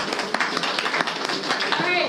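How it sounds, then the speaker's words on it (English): Scattered clapping from a small group at a bed bug conference, uneven and moderately loud, with some voices mixed in. "So if we give Brittany a round of applause"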